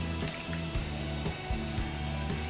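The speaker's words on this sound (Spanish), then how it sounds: "Ahora sí aumentamos a fuego medio todo lo que tenga que ver y comenzamos a revolver un poco." Rice stirred in milk in a pot over medium heat, a steady sizzling simmer with repeated soft scraping strokes in an even rhythm, close and moderately loud.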